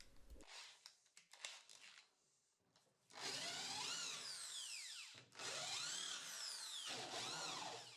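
Holes are drilled into wood for a batten door using 5.5mm and 3mm bits; after some handling noise, the drill whines loudly in two sustained runs with a short pause between them, the pitch rising and falling as it bites.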